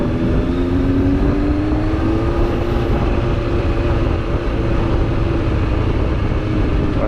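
A mid-displacement four-cylinder sport motorcycle of over 100 horsepower, built at a BMW contract factory, ridden around a market at low speed, a loud steady engine drone with a slowly rising tone under constant rumble and wind, no speech.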